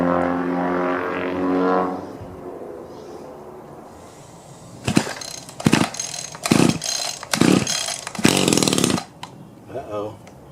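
An old, rusty junked Stihl string trimmer is pulled over in several sharp, loud cranking bursts, each a short rasping rip, after a stretch of talking.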